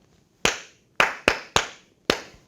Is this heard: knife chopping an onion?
no